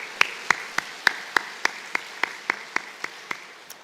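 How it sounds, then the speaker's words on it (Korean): A church congregation claps during a Sunday worship service, beating out steady, evenly spaced claps about three per second in unison at moderate volume, with no voices over them. "우리의 이 고백을 받아주시는 주님께 우리 영광의 박수 함께 올려드리겠습니다."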